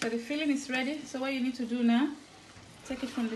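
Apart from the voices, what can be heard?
No everyday noise stands out behind the speech.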